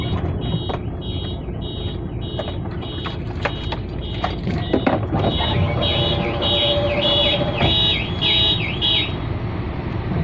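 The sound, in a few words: car alarm sounding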